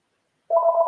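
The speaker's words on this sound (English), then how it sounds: "I apologize about the phone." A telephone tone sounds during a coding stream: silence, then a steady two-pitch electronic tone starts abruptly and holds clearly for under half a second before cutting off.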